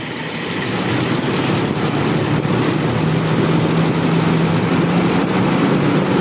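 A motorcycle engine revs steadily and evenly while its carburetor is tuned. The mixture is running too rich at idle and the primary jet is too small. The engine drone is loud and close, builds slightly, and holds without talk.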